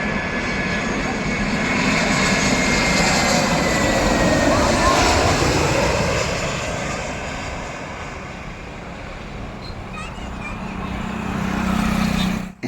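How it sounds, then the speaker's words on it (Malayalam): Airplanes landing at Nedumbassery airport in Kochi pass close overhead with a loud, broad engine roar that swells, eases, then rises again, with people talking faintly beneath it. "രണ്ട് വിമാനങ്ങൾ ലാൻഡ് ചെയ്യുന്നത് തൊട്ടടുത്ത് നിന്ന് കാണാൻ പറ്റി."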